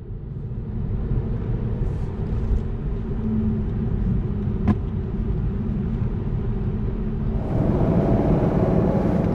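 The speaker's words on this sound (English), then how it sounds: "here the Tesla can really shine with its extreme acceleration" Tesla electric car accelerating on a road in Norway: a steady low rumble of tyre and road noise fills the cabin, loud and continuous, growing slightly stronger and brighter near the end.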